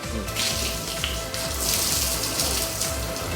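Water is sprayed over a 1965 Ford Mustang GT convertible to check for leaks, a steady close hiss and patter of spray drumming on the car body with no talk.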